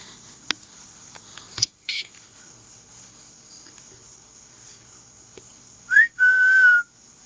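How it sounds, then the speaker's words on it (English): A short rising whistle followed by a longer steady whistled tone near the end, clear against a quiet background with a few faint clicks. "I think I just heard a whistle."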